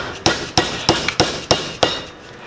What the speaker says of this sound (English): and a dead blow hammer